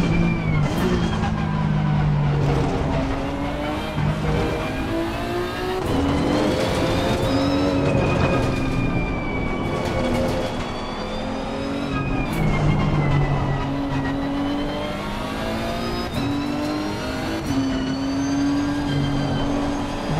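A Nissan GT-R NISMO GT3 races in Assetto Corsa Competizione at the Hungaroring, its loud engine note climbing and dropping through repeated upshifts and downshifts, with other cars' engines blending in nearby.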